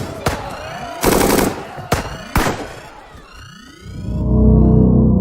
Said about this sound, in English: Shoot on sight, it'll slow them down.